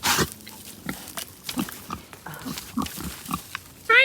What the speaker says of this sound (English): Trying to not have this pig escape.